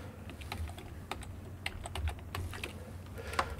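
Keys clatter steadily on a computer keyboard as a short message is typed, a close, crisp run of irregular taps with a few louder strokes and no voices.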